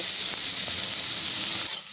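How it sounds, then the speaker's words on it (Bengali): Chopped onions frying in oil in a home kitchen pan, a steady close sizzling hiss that holds evenly before softening slightly near the end, with no voices. "পেঁয়াজগুলোকে লাল লাল করে ভেজে নেব"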